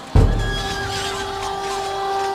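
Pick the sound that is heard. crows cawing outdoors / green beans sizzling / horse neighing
horse neighing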